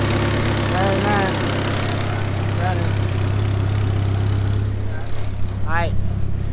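A Talon turbo car with an exhaust leak at the turbo mount idles while warming up, a steady low engine rumble throughout with speech and chirpy sounds over it.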